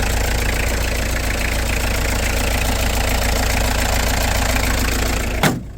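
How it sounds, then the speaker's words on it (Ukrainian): A 2005 commercial vehicle's engine idles steadily and loudly up close at a Rivne car market, an even rumble throughout, ending with a brief clunk. "Дивіться, як працює двигун."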